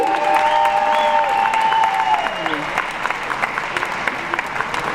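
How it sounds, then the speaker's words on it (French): An audience at a left-wing political meeting in Brest applauds as Gaël Morvan joins the stage, the clapping loud and fairly steady before thinning out, with a voice speaking over its first seconds. "je crois qu'on peut l'applaudir aussi"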